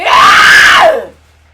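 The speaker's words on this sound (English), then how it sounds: "let's fucking scream together on the count of 3" A loud, close scream lasting about a second, rising then falling before stopping sharply, shouted on cue at the start of a yoga session.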